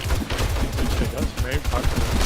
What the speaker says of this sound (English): time to shoot the shotgun